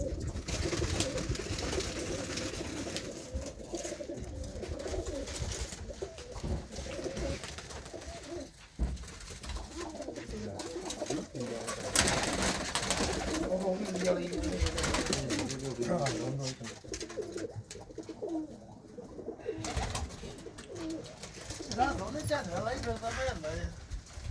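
Malwai pigeons in England coo on and off amid a busy, noisy background, with people talking throughout.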